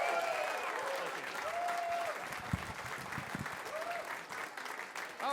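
Sustained applause from an audience at a standup comedy show in Ventura Harbor, California, steady and dense throughout, with faint voices and a few brief whistle-like tones riding above the clapping.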